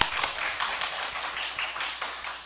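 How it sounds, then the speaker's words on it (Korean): A church congregation claps hands together in praise during a worship service, a dense, steady patter of many hands filling the room, moderately loud and without talk. "하나님께 영광의 박수 올리겠습니다"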